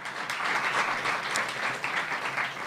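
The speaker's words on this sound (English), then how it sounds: "let's have one more round of applause for these kids" Audience applause for performing children at a community event honoring the Guru, a steady wash of many hands clapping that holds evenly throughout at moderate distance.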